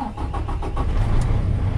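A truck's diesel engine cranks and fires up during a CDL pre-trip inspection, with a brief rhythmic cranking chatter that settles into a steady, close, low rumble at idle.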